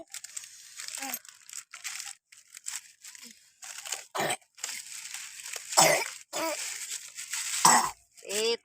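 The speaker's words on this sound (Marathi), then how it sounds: "खोकला आलाय चल तुला औषध पाजू" A person coughs in several short, rough bursts spread through the stretch, with crinkling handling noise between them.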